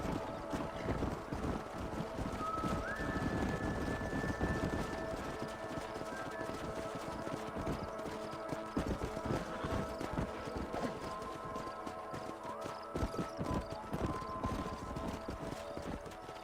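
Horse hooves clop steadily throughout in Red Dead Redemption, a continuous rhythmic gallop under wind and game ambience, with a faint whinny-like tone early on.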